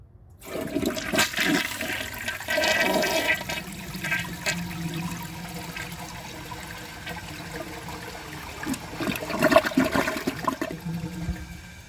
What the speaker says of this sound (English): I'm going to give that another flush, and I'm going to see how much of this it can take.